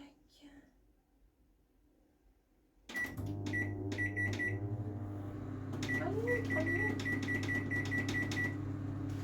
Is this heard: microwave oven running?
yes